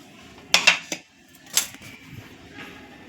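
Spoon and dishware clinks as roasted brinjal and tomato for Khandeshi bharit are scooped into a small bowl: a few sharp metallic taps in quick succession, then a single louder scrape, close and moderately loud with no talking.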